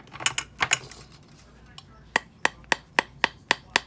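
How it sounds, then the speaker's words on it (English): Rubber mallet tapping a wire-wrapped ring on a ring mandrel, a few irregular knocks then a steady run of about eight evenly spaced, crisp strikes, close and clear with no talking. "rubber mallet and pound it a little bit to work hard in it"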